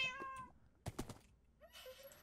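A pet cat meows near the microphone, a drawn-out tonal cry followed by soft thumps and a second, higher meow, fairly faint in a quiet room.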